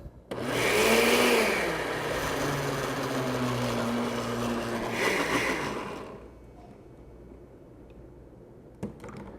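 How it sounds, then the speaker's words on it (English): A blender whirs loudly for about six seconds, its pitch rising and dipping as it churns almonds for pesto, then cuts off, leaving a quiet room and a small clink. "Turn on my blender."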